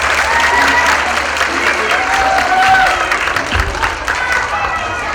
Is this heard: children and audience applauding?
yes